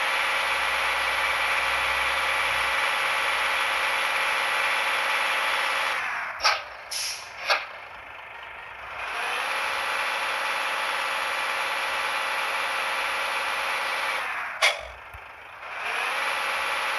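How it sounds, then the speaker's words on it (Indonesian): A bus engine with its exhaust in Bus Simulator Indonesia, on a Sri Kandi SHD coach in Rosalia Indah livery, gives a steady droning idle throughout, with a few brief revs or exhaust pops in the middle and near the end. "ini kita coba tes knalpotnya."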